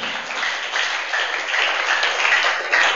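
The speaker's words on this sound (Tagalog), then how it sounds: "Mahina yung palakpak." Church congregation clapping, a continuous fairly soft patter of many hands that swells slightly toward the end, with no voices over it.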